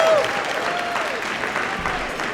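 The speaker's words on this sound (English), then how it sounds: "give a round of applause for that." Audience applause at a SisterLove awards event honoring women, a dense, steady wash of clapping lasting a couple of seconds, with a faint voice briefly audible over it.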